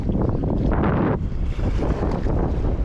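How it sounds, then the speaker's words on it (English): Strong wind buffets the microphone beside a rough, choppy sea in Poole Harbour before a small inflatable sib fishing boat heads out, a loud continuous roar with gusting surges throughout. "It's blowy, it's rough."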